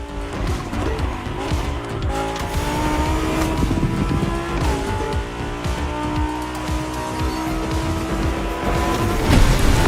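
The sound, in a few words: Lamborghini car engine racing, from video game The Crew Motorfest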